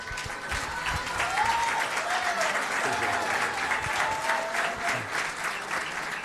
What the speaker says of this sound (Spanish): Quiero que le den un fuerte aplauso a todos estos campeones.